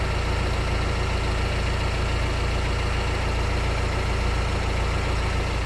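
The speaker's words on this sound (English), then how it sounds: "I use this electric mattress pump to dry out the lamp" A 12-volt electric mattress pump blows air into a water-damaged Renault Espace IV xenon headlight to dry it, giving a steady, loud, close whirring drone that holds unchanged throughout with no voices.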